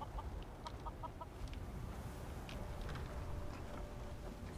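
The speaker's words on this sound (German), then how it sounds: "Irgendwie haben wir Hühner." Chickens cluck in short bursts near the start in the video game Skyrim Special Edition, with a steady low background hum running throughout and no voices.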